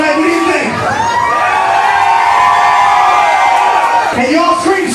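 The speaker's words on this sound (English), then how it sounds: "Can you guys scream so loud" A concert crowd at a rock show screams and cheers loudly and continuously, with whoops and yells swelling in a sustained roar before briefly dipping and rising again.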